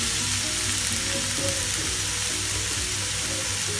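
Chopped onion sautés in a pan for chicken cutlets, an even, dense sizzle with soft stirring movements underneath, near and steady throughout without speech.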